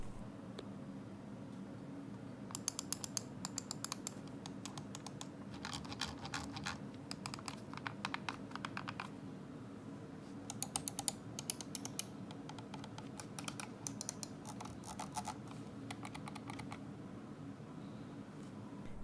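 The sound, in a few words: wireless mouse button clicks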